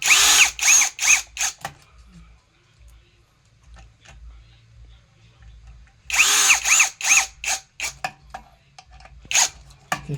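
A power drill drives screws while a wall switch and outlet are installed in place of an old fitting, whirring in rapid close bursts at the start, then a quiet pause before another run of repeated loud spins.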